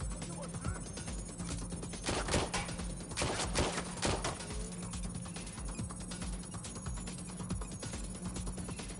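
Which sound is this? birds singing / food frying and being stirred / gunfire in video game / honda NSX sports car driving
gunfire in video game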